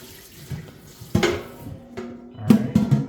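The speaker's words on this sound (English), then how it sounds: "Rinse this pot out." Tap water runs into a cooking pot being rinsed out in a kitchen sink, with the pot knocking and water splashing in bursts, close and fairly loud, no talk.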